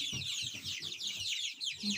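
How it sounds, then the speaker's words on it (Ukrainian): Young chickens on a small farm in spring cheep and cluck close by, a busy run of high overlapping peeps over soft lower clucks, with no talk. "Такі вже курчатка в нас."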